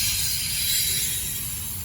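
A Norfolk Southern train rolls past steadily and close, a continuous loud rumble of wheels and cars with faint metallic rattling, sustained throughout with no talking.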